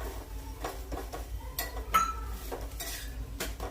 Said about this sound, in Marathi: तव्यावर जो धपाटा आपण टाकलेला आहे त्याला अशा रीतीने सरोट्याने तेल लावून शेकायचं आहे